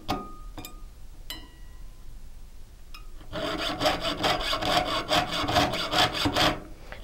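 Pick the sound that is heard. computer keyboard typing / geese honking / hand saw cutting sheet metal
hand saw cutting sheet metal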